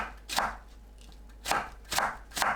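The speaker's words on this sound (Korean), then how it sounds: "무를 채 썰어줍니다." A knife slicing radish into thin julienne strips on a cutting board, four crisp separate chops at an uneven pace with quiet gaps between, close and clear.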